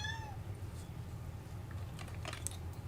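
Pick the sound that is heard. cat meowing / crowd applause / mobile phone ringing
cat meowing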